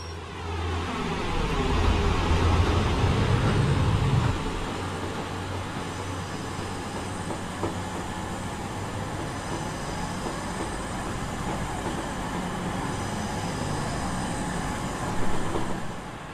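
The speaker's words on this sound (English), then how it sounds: "The train now approaching platform 1 is the 1240 regional service to Freston Junction" A two-coach regional train in a video game pulls into a rainy station platform, a low rumble and rolling wheel noise that swells early, then settles into a steady mechanical hum with faint clanks.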